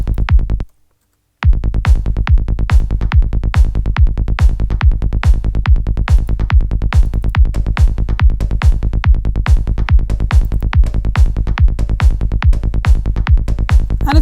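A programmed drum pattern loops in a steady, fast, even rhythm of punchy hits after a brief dropout near the start, loud and unaccompanied.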